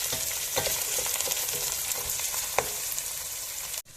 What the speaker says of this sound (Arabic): نصبوا فيها كاس زيت زيتونه ونزيدوا عليها زوز بصلات مقصوصين